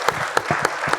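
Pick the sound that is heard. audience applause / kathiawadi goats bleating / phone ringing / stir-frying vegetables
audience applause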